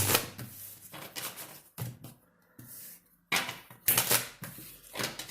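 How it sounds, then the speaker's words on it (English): Quiet, close-up tarot card shuffling: bursts of riffling and soft slaps of cards, with short pauses between. "Free shuffle."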